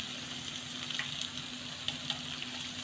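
Dahi bhalla (lentil fritters) frying in hot oil, a steady close sizzle with soft crackling pops and occasional light stirring clinks, continuous and without talk.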